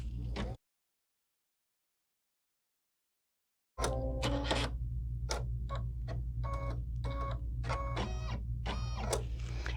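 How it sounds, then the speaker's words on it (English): An embroidery machine sews a white placement stitch after a stretch of silence, its motor humming steadily beneath a rapid, rhythmic run of mechanical ticks and needle strikes, close and clear. "I have threaded the machine with white, and we're going to go ahead and stitch the placement stitch for the white background."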